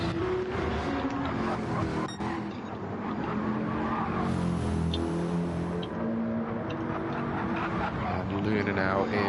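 Race cars in Gran Turismo 7, a BMW M6 through the tunnel at Trial Mountain, engines droning with bursts of tire skid and squeal, all under continuous excited commentary.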